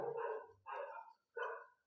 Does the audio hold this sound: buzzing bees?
no